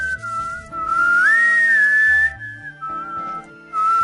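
A person whistles a wavering, sliding tune up close and loud, steady across several seconds, over low game music from a Myst Island remake playthrough.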